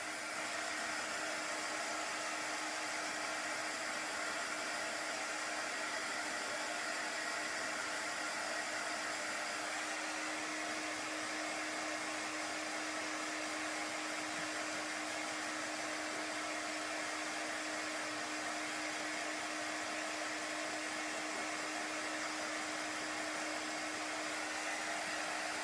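A hair dryer blows steadily on a chalk transfer, a loud, unbroken whooshing roar held close for the whole stretch with no voices over it.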